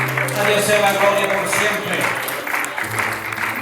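A church congregation claps along during a night revival campaign service, steady rhythmic clapping mixed with music and a voice speaking over it throughout.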